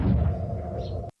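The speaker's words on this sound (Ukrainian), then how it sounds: "Вибухи тут лунають постійно." A heavy explosion near the front line in a war zone, a loud low boom that rolls and rumbles for about a second before cutting off abruptly.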